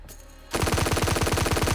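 A gun in the Roblox Siege video game fires in rapid automatic bursts, a loud, close, evenly paced stream of shots that starts abruptly after a brief quiet moment.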